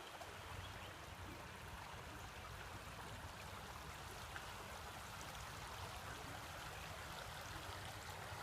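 A river flows in a quiet outdoor spot near Caledonia, Wisconsin, a faint, steady wash of water that runs without a break and with no talking.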